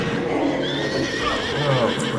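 A horse whinnies amid in-game ambience in a Havenshire fantasy video game, a short close neigh with clip-clopping hooves mixed in.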